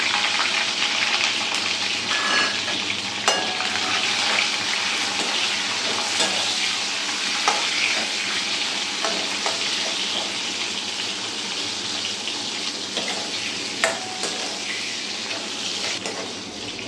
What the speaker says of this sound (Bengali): কড়াইতে তেল দিয়েছি, একটু নুন দিলাম আর দিচ্ছি ক্যাপসিকাম। এটা একেবারেই শ্যালো ফ্রাই হবে, জাস্ট একটু নেড়ে তুলে নেব।